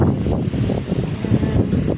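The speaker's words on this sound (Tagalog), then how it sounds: "Mahangin sobra." Strong wind roars across the microphone outdoors at a countryside gathering spot, a continuous loud rumbling rush with no voices heard.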